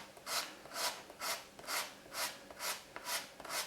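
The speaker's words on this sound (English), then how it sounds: "we'll just use our sandpaper on this bit here" Slouch hat brim rubbed with 240 grit sandpaper, a soft, close rasping in about eight regular back-and-forth strokes, fairly quiet and alone.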